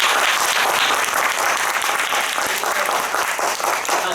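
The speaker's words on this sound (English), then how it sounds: "Please give them a big round of applause." Audience applause for visiting charity representatives at a tenth-anniversary special event, a dense, steady wash of clapping from a sizeable crowd that holds at full strength throughout without letting up.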